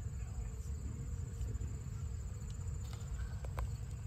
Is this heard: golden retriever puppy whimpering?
no